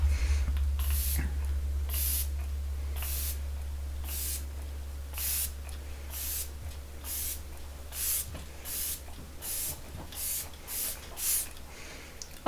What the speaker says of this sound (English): now we go in with the setting spray.